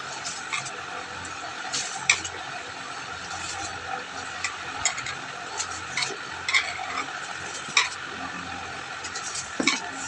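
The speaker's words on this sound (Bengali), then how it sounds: "চালটা ধুয়ে নিচ্ছি।" Rice being washed by hand in water, a soft continuous swishing and rustling with scattered small clicks and knocks of grains and a container, close and moderately quiet with no talking.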